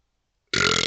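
A loud, rough burp erupts after a half-second of silence, a single sustained belch from someone chugging a carbonated drink.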